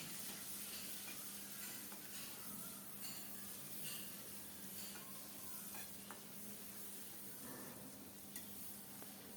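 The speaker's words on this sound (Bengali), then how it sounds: "সুন্দর করে ভেজে নিচ্ছি" Shrimp frying in oil with crushed garlic, turmeric and salt, a faint continuous sizzle with soft occasional stirring sounds, low and even in level.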